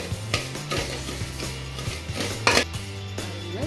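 Roasted cumin seeds are tipped from a pan into a container while making sambar powder, with metallic clinks and a scraping rattle, close and fairly loud.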